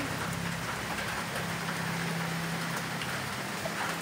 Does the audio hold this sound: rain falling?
yes